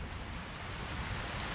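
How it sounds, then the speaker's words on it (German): Rain falls steadily in Fallout 4 VR, a dense, even hiss of drops that runs without a break and with no voices. "es regnet"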